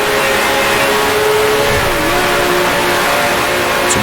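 A 1966 Formula One race car engine in Grand Prix Legends screams loudly and steadily as it climbs through the gears, a continuous high-pitched whine with no talk.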